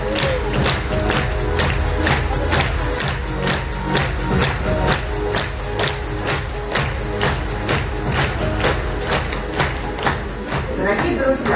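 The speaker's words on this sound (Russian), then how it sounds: "Аплодисменты!" Audience at a Faberlic corporate conference in Moscow claps in a fast, rhythmic unison beat, loud and sustained with crowd murmur and music underneath.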